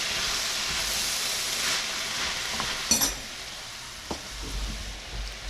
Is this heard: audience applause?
no